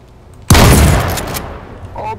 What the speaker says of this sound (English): He was the guy shooting at me from the other building.